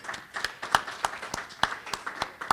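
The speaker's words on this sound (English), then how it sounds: "Let's give her a round of applause." An audience at a Board of Education event gives a brief, light round of applause, a few hands clapping in a loose, uneven rhythm at moderate distance.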